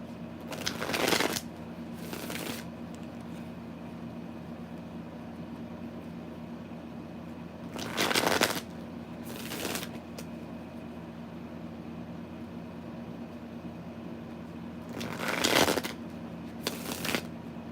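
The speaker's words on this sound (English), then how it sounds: "Let me just shuffle these so I can put it back." A deck of tarot cards is shuffled three times in short riffling bursts, each lasting about a second and separated by several seconds of quiet room hum, close and clear.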